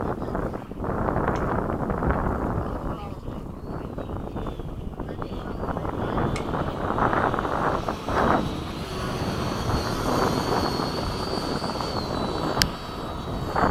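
An F/A-18 jet flies as a steady, moderately loud engine roar, with wind buffeting the microphone throughout and a few sharp clicks.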